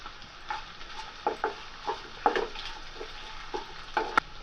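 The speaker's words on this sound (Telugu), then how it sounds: "ఆ విధంగా చూడండి, ఆనియన్స్ కొంచెం వేగినాయి." Onions, green chillies and curry leaves fry and get stirred in a pan, giving soft scraping strokes and light sizzling taps that come in irregular bursts, close but fairly quiet.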